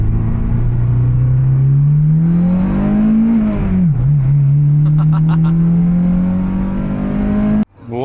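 An Acura RSX engine with a new header and exhaust, revved hard up to a high sustained pitch, easing back, then rising again in a loud, close, buzzy drone before cutting off abruptly.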